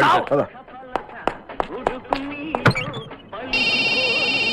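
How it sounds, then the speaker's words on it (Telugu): Scattered knocks, clatter and voice-like sounds give way to a steady electronic phone ring that starts near the end and continues loudly. "ఫోన్ సార్, ఫోన్ తీయండి."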